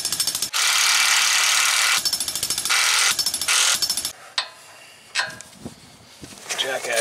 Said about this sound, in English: Currently taking the skid plate off